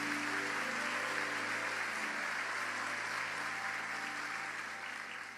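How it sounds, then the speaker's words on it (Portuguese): A church congregation applauds for a pastor, a soft, even wash of many hands clapping that holds steady and then tapers away near the end, with a faint sustained tone underneath. "Pode aplaudir Jesus pela vida desse amado pastor."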